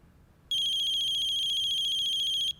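A phone ringtone sounds as a call is placed: a single loud, steady electronic tone that starts abruptly, holds for about two seconds and cuts off cleanly, over a quiet room with no talk.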